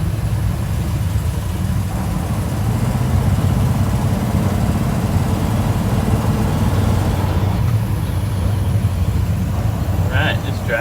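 A 1971 Ford F250 pickup with a newly installed Pertronix ignition drives around the block, its engine and road noise forming a steady, close rumble throughout, with brief speech near the end.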